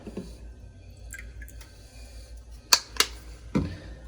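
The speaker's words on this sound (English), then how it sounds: "Next, we're going to add a couple drops of liquid smoke." Drops of liquid smoke added to a vegan beef-flavored gravy: a few soft drips and small wet squishes, close and quiet, with the clearest sharp drips near the end.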